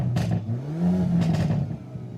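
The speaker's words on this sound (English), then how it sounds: "The Elantra N separates itself with its cornering differential." A Hyundai Elantra N revs its exhaust in a close, loud, droning engine note that climbs and falls, with a couple of sharp crackling bursts on top.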